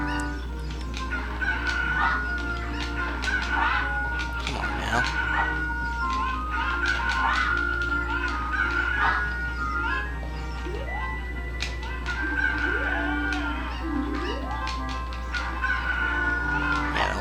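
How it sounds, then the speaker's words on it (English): Cuckoo chickens in The Legend of Zelda: Ocarina of Time on the N64 cluck and crow repeatedly in chirpy game tones, over a steady low hum and background music, with a brief spoken remark. "you gotta find 3 of these special cuckoos"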